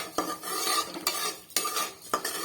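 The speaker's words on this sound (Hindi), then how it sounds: "इसमें डालेंगे अब खरबूजे का बीज 100 ग्राम। और इसको फटाफट ये इस तरह करके सेकेंगे, वरना ये जलने लगेगा।" Melon seeds roasting in ghee in a pan are stirred briskly, giving four or five close scraping strokes in an even rhythm with no talk.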